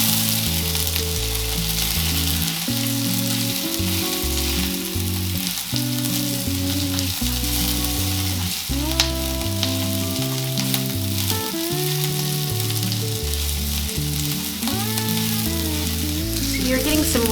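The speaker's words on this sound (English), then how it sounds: "you're getting some really nice caramelization, I guess, on the carrots" Carrots sizzle and caramelize in a hot pan for a shepherd's pie, a steady close frying hiss that runs throughout with tuneful background music underneath.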